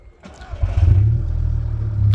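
A Toyota Corolla X with modified exhaust pipes starts up, the starter catching into a deep, loud idle that settles into a steady low rumble, close by, with no talking.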